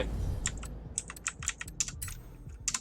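Fingers tap quickly at a computer keyboard during a Forza Horizon 4 racing game, a close, irregular burst of clicks over a low hum of game sound.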